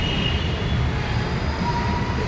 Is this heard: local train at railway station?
yes